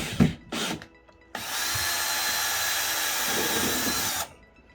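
A power drill on its screw setting drives a screw into a metal lighting track: two brief bursts of the motor, then a steady, loud whir lasting about three seconds before it cuts off.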